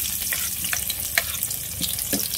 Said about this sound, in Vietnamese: Rồi xôi cả nhà ơi, cho tỏi với hành vào.